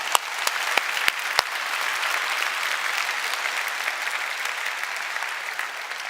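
A church congregation applauds in a steady, dense wash of clapping that fills the room, with a few sharp individual claps standing out early on.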